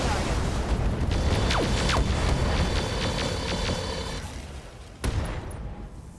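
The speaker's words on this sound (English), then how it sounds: "Firing on target." BattleMech weapons firing at a target in the RogueTech game, a rumbling barrage with streaking whooshes and layered booms, ending in a sharp impact blast that fades out.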